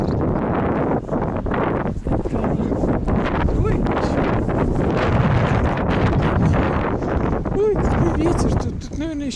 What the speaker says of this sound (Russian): холодный ветер, ледяной, прямо холодно.